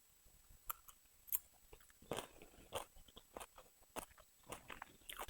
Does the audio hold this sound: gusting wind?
no